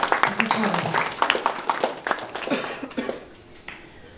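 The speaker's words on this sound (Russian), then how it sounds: "Давайте поаплодируем" Scattered clapping from a group at a school breakfast with the principal, uneven and fading out after a few seconds, with talk mixed in.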